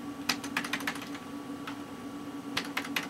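Computer keyboard keys clatter in uneven bursts of several quick taps with pauses between them, close and fairly soft, over a steady electrical hum from an old Packard Bell Legend 406CD desktop PC.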